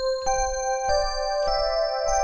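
Shooting Stars synth lead preset from Analog Lab plays four bright, bell-like sustained notes in a steady rhythm, each with a sharp attack and shimmering overtones, heard alone without talk.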